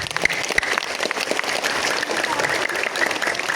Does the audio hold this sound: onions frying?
no